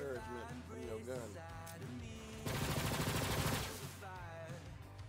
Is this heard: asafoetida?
no